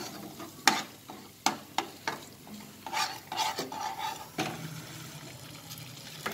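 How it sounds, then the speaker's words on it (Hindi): Spices sizzle quietly in a pan while a spoon scrapes and stirs, producing irregular sharp knocks over a soft frying hiss, while making lauki paneer kofta. "सारी चीज़ों को अच्छे से डाल करके हम भून लेंगे"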